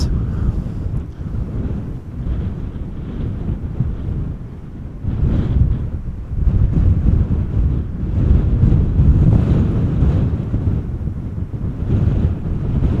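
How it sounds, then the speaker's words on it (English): Strong crosswind at Amsterdam Schiphol Airport blows hard against the microphone in a deep, gusting rumble that grows stronger partway through, with no voices. "it looked like the wind was slowing down a little bit, but at the moment it does actually feel like it has been picking up again"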